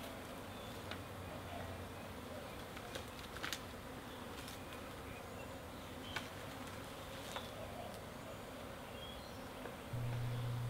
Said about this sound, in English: Now it's a matter of waiting for all the bees to get out of the way.